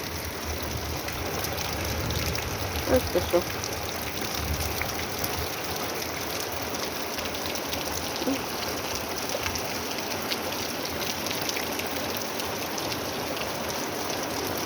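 Steady rain from a May thunderstorm falls with a soft, even wash and water trickling beneath it, while a brief voice speaks early on.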